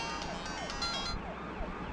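In a Telugu comedy film scene, an emergency siren wails with repeating sweeping tones, heard steadily throughout over a dense, noisy background.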